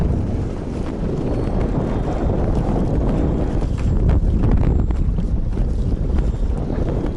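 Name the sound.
wind blowing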